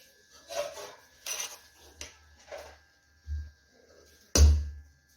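A spoon stirs and scrapes cooked mix veg paneer pulao around a pot in short, close rubbing strokes, then gives one louder clunk against the metal near the end.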